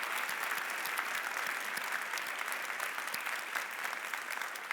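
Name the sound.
congregation applauding the media and usher teams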